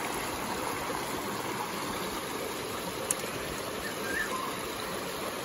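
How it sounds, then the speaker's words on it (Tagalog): Small river stream in Japan, a salmon fishing spot, flowing as a steady, even broadband wash of water that runs unbroken throughout, with one faint click partway through. "Napakaliit po yung river."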